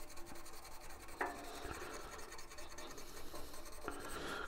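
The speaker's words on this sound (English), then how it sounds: "I'll just gently sand over that again with the 320." A wooden wand gently sanded with 320 grit sandpaper gives a soft, steady rasping rub, fairly quiet and continuous, with a couple of brief sharper scrapes.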